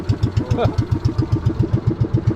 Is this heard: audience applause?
no